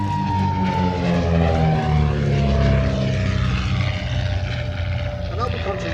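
A Hawk Speed 6 propeller aeroplane flying past at an air show, its steady engine drone loud and close with a slowly falling pitch as it passes, while a commentator talks over it.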